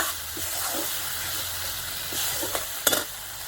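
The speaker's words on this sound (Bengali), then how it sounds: "জলটা দিয়ে ভালো করে কষিয়ে নেব" Bengali fish curry masala sizzles in a pan after water is added, a soft steady hiss and bubbling with a few scraping stirs and a sharper clatter near the end, close but fairly quiet.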